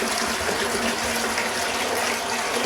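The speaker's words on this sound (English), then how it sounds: "So we start by pouring our water." Water poured steadily for mixing cement with waste material collected from a lake, a continuous broadband gushing splash that stays loud and even throughout, with no talk.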